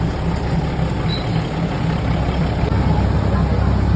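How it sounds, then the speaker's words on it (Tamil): Diesel engine train in Thailand, a steady low rumbling drone of the engine running continuously throughout, fairly loud and close, with a faint high whine above it. "இது வந்து டீசல் இன்ஜின் ட்ரெயின். இது வந்து டீசலில் மூவ் ஆகிற ட்ரெயின்."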